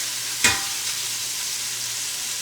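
Braised pork stuffed peppers hiss loudly in a hot pan; a sharp burst of sizzle as they are flipped, then a steady, bright frying hiss continues on its own.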